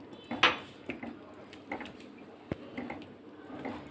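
A utensil scrapes and taps against a pan while cheese slices and milk are stirred together, a faint series of irregular clinks and knocks spaced over a few seconds.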